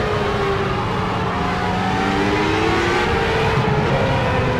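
A Formula A race car engine in Project CARS, fuel-heavy and running steadily at high revs with a gently shifting pitch, loud and close throughout with no voices.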